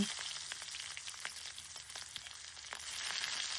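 Onions fry in hot oil for a fish dish, giving a steady close sizzle with small crackles and pops throughout, no voices.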